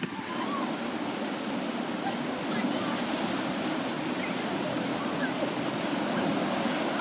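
Steady, dense rushing of water park waterfalls, loud and continuous throughout with no pauses.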